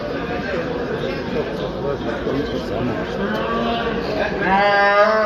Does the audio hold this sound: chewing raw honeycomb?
no